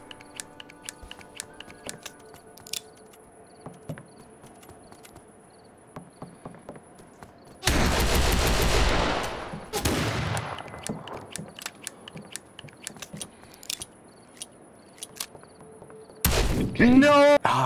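Gunfire in the Roblox game The Wild West, with scattered single shots and two long loud bursts, close, over a steady high insect-like chirping ambience.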